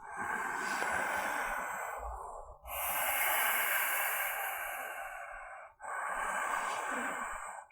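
Slow, deep breaths during a yoga pose in a Sun Salutation A sequence: three long, airy exhales, each swelling steadily and fading with brief gaps between, close and clear with no talking.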